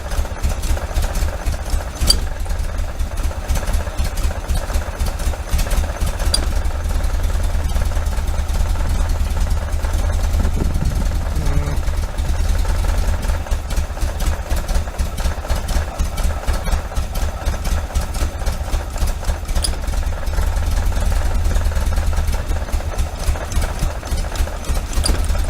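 A 1973 VW Super Beetle engine fitted with Dellorto FRD 34B carburetors idles steadily and loudly up close, a continuous low throbbing rumble with fast regular pulsing throughout and no talking.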